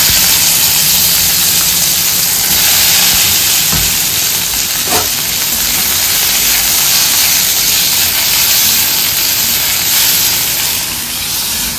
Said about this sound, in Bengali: ও এখানে উচ্ছে আলু ভাজতে দিচ্ছে